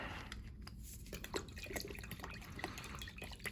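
Worcestershire sauce is poured into a beef jerky marinade, giving a faint, close trickle with scattered drips in a quiet kitchen, and no one talks.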